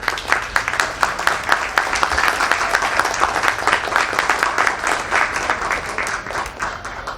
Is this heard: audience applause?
yes